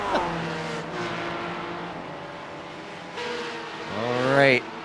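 Porsche and Mazda MX-5 race cars on the Nürburgring Nordschleife in a sim racing game, with engines droning and rising in pitch as they accelerate and pass, heard under a commentator's voice.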